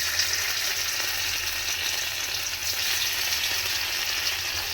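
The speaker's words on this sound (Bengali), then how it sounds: "পনিরগুলো আমি কেটে রেখেছিলাম, সেগুলোকে হালকা করে আমি ভেজে নিচ্ছি।" Cut paneer pieces fry lightly in a pan for dhaba-style palak paneer, giving a steady, even hiss of hot oil that stays constant throughout with no talking.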